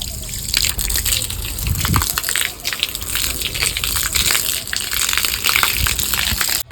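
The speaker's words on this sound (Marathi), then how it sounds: "बोर चालू केलेलं आहे मित्रांनो, नाही का." Water gushing hard from a running borewell pump onto sun-baked ground, a loud continuous splashing rush with irregular spatters and surges throughout.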